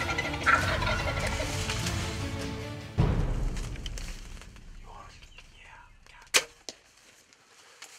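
A wild turkey gobbles during a bow hunt, its rattling call mixed with rustling and whispered voices outdoors, followed by a sharp snap and scattered thumps.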